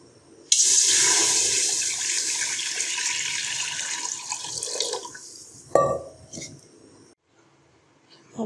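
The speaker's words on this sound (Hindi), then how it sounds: "अब हम इसके अंदर पानी डालेंगे।" Water pours into a pressure cooker set on a lit gas stove, a loud sustained splashing rush for several seconds that stops, followed by a short clatter and quieter handling sounds.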